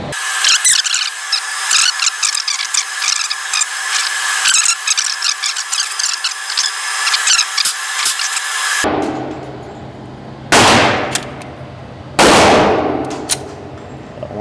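Rounds loaded into a Polymer80 pistol: a close run of small metallic clicks and clacks, followed by a couple of louder, harsher bursts of handling noise.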